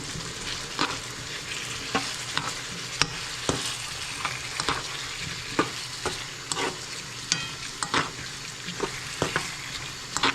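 Chayote and chicken breast sizzle steadily in a pan, with a spatula scraping and stirring in irregular clicks and scrapes over the continuous frying hiss, no voices.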